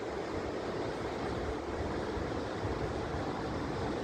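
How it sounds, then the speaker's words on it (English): Ocean surf breaking at the mouth of Durban's Umbilo River, a steady broad roar of crashing water mixed with wind rumble on the microphone, continuous and fairly loud. "Waves breaking black."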